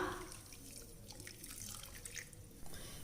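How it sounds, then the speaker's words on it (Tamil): Water poured from a cup onto jaggery in a home kitchen, a steady splashing trickle heard close up for the full stretch with no voices. "இப்போ இதே கப்பில் ஒரு கப் அளவுக்கு நம்ம தண்ணி சேர்த்துக்கலாம்"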